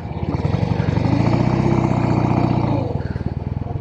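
A vintage Norton Atlas 750 motorcycle idles loudly close by as it is forced into first gear, the steady pulsing engine note holding for a few seconds before dropping slightly near the end.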